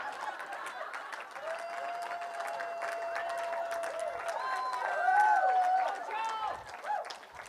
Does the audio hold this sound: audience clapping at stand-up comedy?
yes